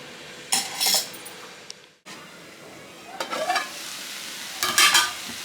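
A spoon scrapes and stirs onions, amaranth leaves and tomatoes in a pan for amaranth chutney, in three separate bursts over a low, steady sizzle, close and fairly quiet.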